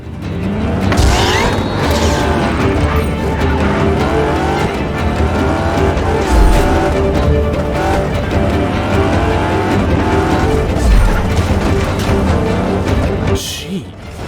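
A car in the Just Cause 3 video game drives hard with a revving engine and repeated tire squeals through sudden turns. Someone talks over the steady engine noise.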